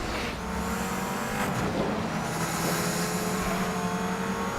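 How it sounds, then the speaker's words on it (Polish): Ford Focus RS500 engine in the 2012 Need for Speed Most Wanted racing game, a steady loud droning hum with a bright whine held throughout, no talking over it. "Bardzo podobnie do tej Audi A1 chodzi silnik"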